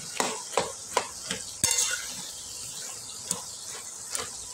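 A spoon scrapes and stirs taro greens cooked with a hilsa fish head in a hot pan, several distinct strokes over a soft sizzle, close and moderately loud.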